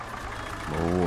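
An MTZ-80 tractor engine idles in the Spin Tires video game with a steady, low, mid-pitched rumble that grows slightly louder and more tonal toward the end, with a voice talking over it.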